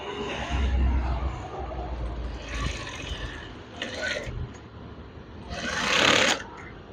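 A sewing machine stitches a curtain in a home workshop with a continuous low mechanical rumble and several brief louder bursts of running, close by.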